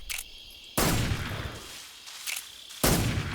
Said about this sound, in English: That gun's pretty loud.